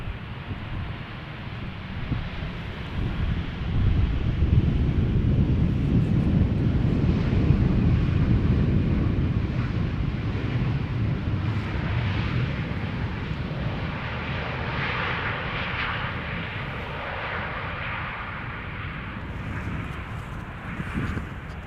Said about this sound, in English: And this is a Transavia arriving from Barcelona, flight